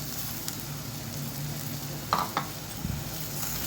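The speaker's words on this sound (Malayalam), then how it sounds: "ഇനി ഇതൊന്ന് നന്നായി ഇളക്കി കൊടുക്കാം" Peeled, finely cut potatoes frying in a pan are stirred through a steady hiss of sizzling oil, with a couple of distinct scraping knocks of the spoon partway through.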